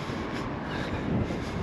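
The Jacobite steam train rumbles past close by in Scotland in a continuous, dense roar with rattling wheels, no voices.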